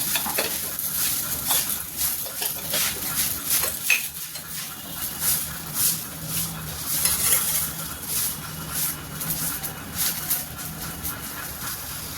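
Taro (ghuiyan) frying on a low flame sizzles steadily while a spoon scrapes and stirs in the pan in repeated strokes, close and fairly loud throughout.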